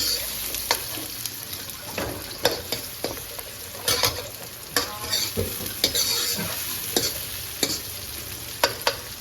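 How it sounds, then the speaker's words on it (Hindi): Onions frying to golden brown in a pan for aloo gobi make a continuous sizzle, broken up by repeated scraping strokes of a spatula stirring them, with no voices. "तो प्याज जो है थोड़ी सी गोल्डन ब्राउन हो जाए"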